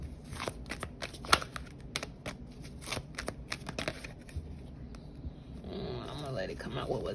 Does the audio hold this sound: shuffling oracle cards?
yes